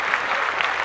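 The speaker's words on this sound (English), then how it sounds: "Let's clap that up for myself." A short burst of hand clapping from a few people, dense and steady for under a second, fairly close, with no talk over it.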